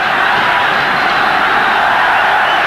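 Dense roar of a football stadium crowd at a 1994 Africa Cup of Nations match between Nigeria and Zambia, a steady wall of voices holding loud and unbroken throughout.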